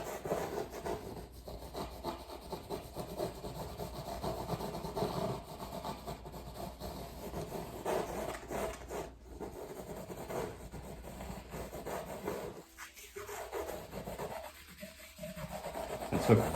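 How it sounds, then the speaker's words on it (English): A brush or cloth rubs a small amount of white paint into a black canvas for a lighthouse painting, giving a steady, close, continuous scrubbing texture with a few brief pauses and no talking. "I took very, very little bit of this white here. And I'm just rubbing it in."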